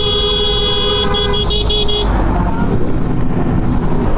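A truck speeding down a busy highway in Bataan, with loud road rumble and engine roar up close, several horn toots and honks early on, then steady heavy traffic noise.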